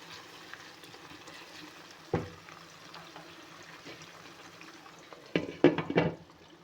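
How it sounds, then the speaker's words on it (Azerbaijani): Onions frying in oil in a pan, a quiet steady sizzle under faint kitchen noise, with a sharp clatter near two seconds and a louder burst of stirring and sizzling toward the end. "Soğan qovururam, qovursun."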